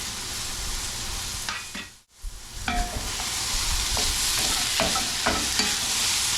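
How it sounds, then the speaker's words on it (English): Bacon and onion sizzle and crackle steadily in a pan, with a brief lull and occasional scraping stirs over the constant frying hiss. "bacon and onion frying on the pan"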